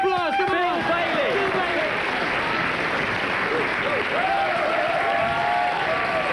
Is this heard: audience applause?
yes